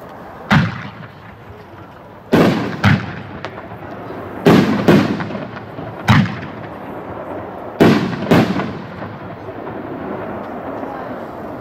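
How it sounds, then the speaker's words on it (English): Weeping Willow artillery shell fireworks from a six-shell kit launch and burst, with about eight loud, sharp booms in irregular pairs, each trailing off into a crackling, rumbling decay, all close and with no talking. "This is Weeping Willow Artillery."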